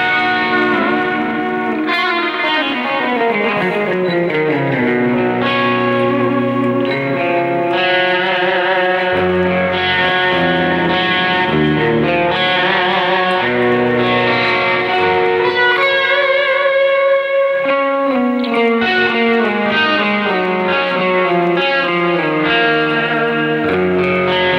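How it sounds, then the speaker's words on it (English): An electric guitar is played through a Boss eBand JS-10 with an 80s glam metal distorted tone soaked in reverb and delay. Loud, noodling melodic runs, bends and held notes continue for a long stretch with no voices. "You hear that reverb and delay?"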